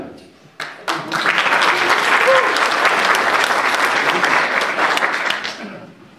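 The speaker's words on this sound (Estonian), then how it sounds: "See aplaus oli täiesti õigustatud kohal." Warm audience applause at a rural humour festival in Väätsa, a dense crowd clapping loudly for about five seconds after a brief opening, then fading out.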